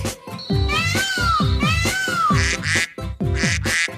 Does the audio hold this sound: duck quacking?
yes